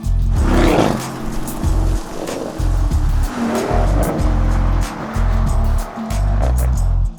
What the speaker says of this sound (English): The Porsche Cayenne S, it continued its standard-setting march and welcomed back the V8.